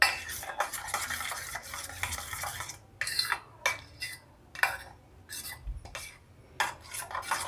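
Egg batter with ajwain is whisked for a bread omelette, quick scraping strokes against a bowl coming in several separate bursts with short pauses, close and clear with no talking.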